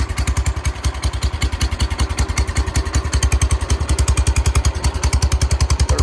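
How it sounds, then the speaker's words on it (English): A 1969 John Deere 140 garden tractor engine running rich with the choke stuck partly on, a loud, close, thumping idle with a rapid uneven loping beat throughout. "I can't get the choke to go all the way off. That's why it's kind of loping."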